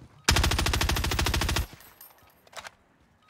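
A rapid full-auto burst from a Krig assault rifle in the Warzone video game, close and loud, about a second and a half of evenly spaced shots, followed by a couple of faint distant pops.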